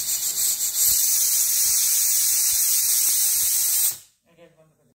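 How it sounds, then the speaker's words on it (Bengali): A pressure cooker of peas and cauliflower on a gas stove lets off a loud, steady rush of hissing steam for about four seconds, then cuts off abruptly into near silence. "সিটি না আসা অবধি অপেক্ষা করে একটি সিটি দিয়ে নামিয়ে নিতে হবে।"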